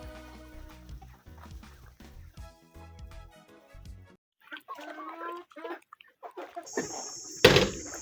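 Layer hens in a poultry house clucking at week twelve, scattered clucks and calls near and far, with a loud thud and rattle toward the end.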